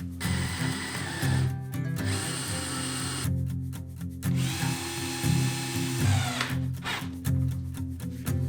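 A power drill drives screws up through the bottom of a small dovetailed wooden blanket chest, whirring in several loud, close bursts separated by short pauses.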